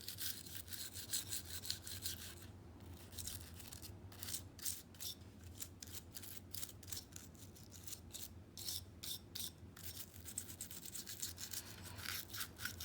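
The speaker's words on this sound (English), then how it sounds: "just gonna give this a quick little rub down here." Scratchy, close-up rubbing strokes from an alcohol pad wiping down an oiled handgun frame during cleaning, coming in uneven bursts with short pauses and no talking.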